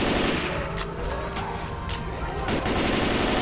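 Sustained rapid automatic gunfire from the Left 4 Dead 2 video game, a loud continuous rattle of shots with a few sharper cracks standing out, dense and close throughout.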